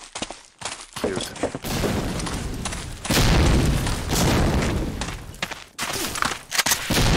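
Grenade blasts in Medal of Honor: Allied Assault, a heavy booming explosion followed by sustained rumbling gunfire and further loud thumps, dense and close throughout.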